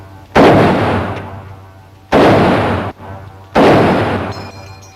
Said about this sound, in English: the distinctive ping that you hear when the rounds are fired and fully emptied